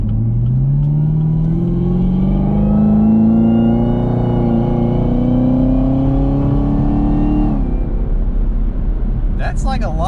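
Supercharged ZL1 Camaro fitted with a cold air intake pulls hard, its engine note rising steadily with a loud supercharger whine for about seven seconds, then easing off into a rumbling idle as a voice speaks near the end.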